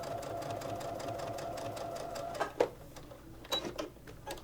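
A sewing machine stitches fabric for flying geese quilt units with a rapid, steady mechanical chatter, then stops, followed by a few scattered clicks and handling noises, with no talk.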